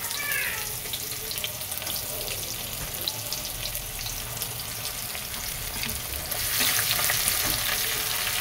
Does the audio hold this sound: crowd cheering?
no